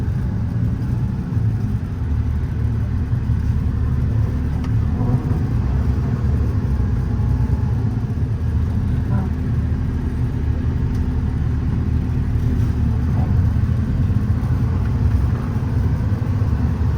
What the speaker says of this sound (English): Tons of power, shifts through the gears, rides really nicely.